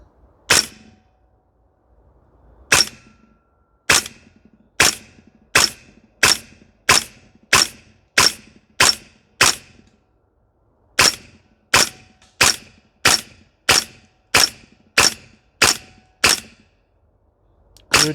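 A CYMA MWS gas blowback airsoft rifle fires single shots on an outdoor range, about twenty loud, sharp cracks at a steady semi-auto pace with short pauses between groups.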